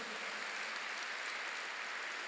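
A church congregation applauds during a sermon, giving a dense, steady wash of clapping that holds at an even level from start to finish with no voices on top.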